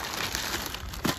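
A plastic bag cover is pulled off the back of a DIY electric go-kart, giving a short, faint crinkling rustle that ends in a slightly louder crumple.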